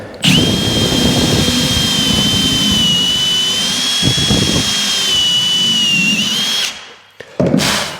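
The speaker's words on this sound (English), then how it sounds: "And then you can put the drill upright then." A power drill whines loudly and steadily for several seconds, then cuts off, followed by a brief short burst near the end.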